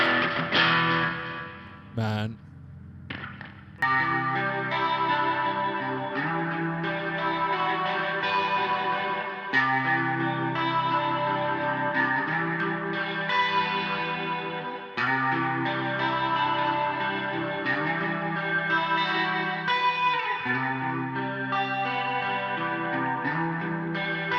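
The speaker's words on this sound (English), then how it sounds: "You have the lead, the clean, and the kind of blasted effect sound." Electric guitar playing sustained, heavily distorted chords drenched in echo and chorus effects, recreating Silent Hill 2 soundtrack tones, loud and continuous after a brief clean opening.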